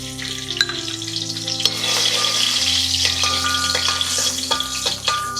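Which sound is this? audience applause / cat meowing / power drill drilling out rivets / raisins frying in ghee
raisins frying in ghee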